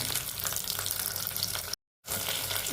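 Green chillies, onion and tomato sizzle steadily in hot oil after a tempering, a continuous close frying hiss that briefly drops to silence before resuming.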